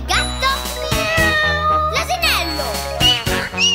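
Children's voices imitate a cat meowing in a school pizza-party setting, a series of drawn-out, pitch-gliding meows one after another over a steady low hum, close and fairly loud.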